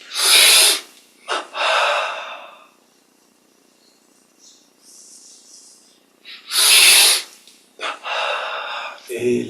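Two deep, breathy inhales roughly six seconds apart during a meditation breathing exercise, each followed by softer exhaled air, close and clear over a quiet background.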